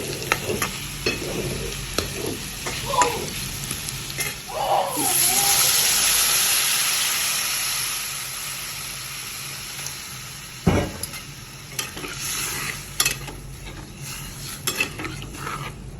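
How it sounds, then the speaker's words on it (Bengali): Fried eggs stirred in a pan with Kashmiri chili powder, steady sizzling under scraping spatula strokes and metal clinks, with a louder hiss swelling midway and a sharp knock later, all close and without speech. "এবার দেবো লঙ্কা, দিয়ে দিচ্ছি লঙ্কাটা। এটা কাশ্মীরি চিলি, কাশ্মীরি লঙ্কা গুঁড়ো"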